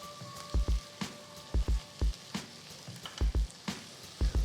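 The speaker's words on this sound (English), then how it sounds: "Mix well and let all the vegetables roast together for a couple of minutes." Carrot, beans, cauliflower and green peas roasting together in a pan, with a soft steady sizzle broken by repeated low thumps and clatter of stirring, no voices.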